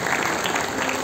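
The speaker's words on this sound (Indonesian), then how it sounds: "Kasih tepuk tangan paling meriah untuk Dia." A church congregation at a Christmas service bursts into loud, dense applause, many hands clapping at once in a continuous close wash of sound.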